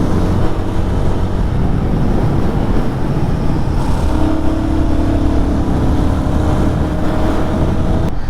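Royal Enfield Guerrilla 450 or Himalayan 450 motorcycle on a ride to Kuttikkanam: a steady engine drone mixed with heavy wind rush, loud and unbroken throughout.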